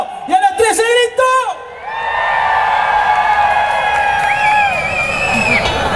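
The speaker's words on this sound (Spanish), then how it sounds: "Entonces a la una, a la dos y a las tres se grito." Festival crowd at the national mate celebration in San José bursting into a loud, sustained collective shout and whooping after an announcer's short count, the roar filling the space for several seconds.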